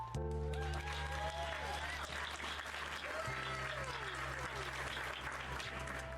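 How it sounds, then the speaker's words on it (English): A small group at a trading card box break claps briefly and faintly, the scattered applause sitting under a steady electronic hum and tonal background sound. "We'll do a little applause here."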